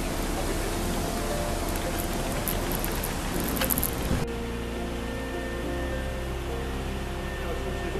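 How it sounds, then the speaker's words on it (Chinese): Rain falls steadily in Marsiling Park, a dense, even hiss that suddenly drops to a softer, duller wash about halfway through. "下雨了。"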